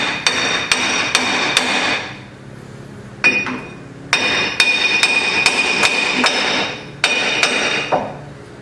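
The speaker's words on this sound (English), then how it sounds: "I'm going to try tapping on it either side." A hammer taps on a stuck wheel bearing on a 2009-2014 Ford F-150 in quick bursts of sharp, ringing metal taps, several blows in a row with short pauses between groups.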